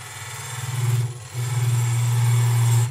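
A gouge cutting wood on a lathe while a goblet is turned, making a steady low vibrating drone that dips briefly around the midpoint and then resumes strongly, close and continuous, with no voices.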